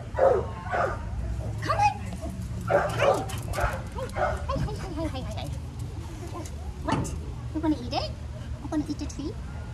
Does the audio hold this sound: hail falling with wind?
no